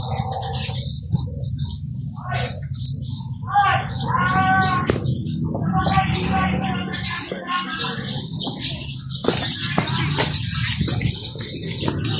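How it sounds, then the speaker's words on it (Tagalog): Many birds chirp and twitter at Cagsawa in Camalig, Albay, a busy overlapping mix of calls and trills, some close and loud, over a steady low background hum. "daming ibon"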